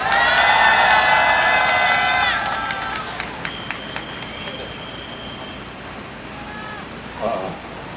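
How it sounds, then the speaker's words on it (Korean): A crowd at an evening street rally of resigned trainee doctors outside city hall cheers loudly with shrill whistle or horn tones, then the noise drops to a softer murmur with scattered claps and a brief shout near the end. "큰 박수 부탁드리고 용기 내주셔서 다시 한번 감사드리고 큰 박수 부탁드리겠습니다"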